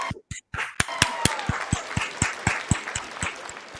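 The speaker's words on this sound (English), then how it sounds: "standing ovation." Sharp, evenly spaced claps beat out a steady rhythm of roughly four per second, close and crisp, with a faint hum of crowd underneath and no speech.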